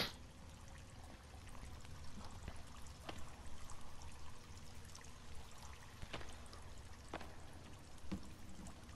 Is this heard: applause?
no